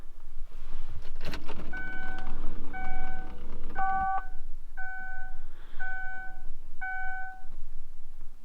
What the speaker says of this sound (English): Go ahead and turn on the ignition real quick.